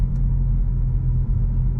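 2023 Honda Civic Si on the move, a steady low engine and road rumble with no talk, constant in level for the whole short stretch.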